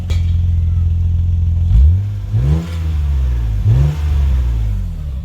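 A car engine idles, burning excess oil out the exhaust, then revs up sharply a few times in quick succession, each rise dropping back to a steady rumble, close by.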